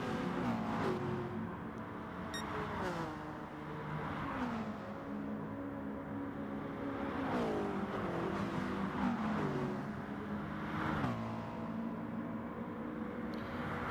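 Racing-game cars lapping the Nordschleife in a league race, engines droning and rising in pitch together as a pack closes up, steady and continuous with no voices.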